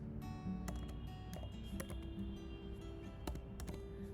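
Faint keystrokes on a computer keyboard while a plugin name is typed into a WordPress search field: a few soft, scattered clicks over a quiet steady hum.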